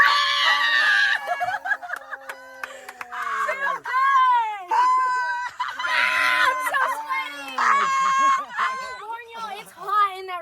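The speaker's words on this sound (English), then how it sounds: "Why is she yelling?" A woman yells in loud, high, strained bursts, her voice rising and falling with short breaks between cries, close and dominant throughout.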